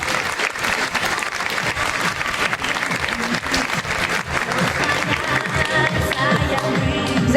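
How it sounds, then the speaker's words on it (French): Loud, sustained applause from a gala audience for Miss Excellence Oise 2019 pageant candidates, dense clapping filling the whole stretch without a break. "Faut les applaudir bien fort."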